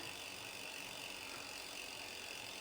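A Shimano FH-MT410 freehub on a freshly rebuilt bicycle wheel ratchets as the wheel spins freely, giving a fast, steady buzz of clicks that is faint and continuous throughout.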